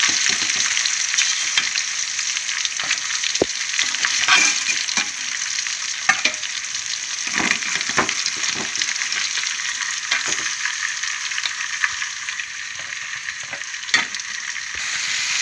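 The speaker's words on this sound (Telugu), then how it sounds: "మిగతా ముక్కలు కూడా వేసేసుకుంటున్నానండి ఫ్రై అయిపోతున్నాయి అనమాట" Pieces of fish sizzle steadily in hot oil for a fish curry, a dense continuous frying hiss broken by occasional sharp pops and scraping stirs, close and with no talk.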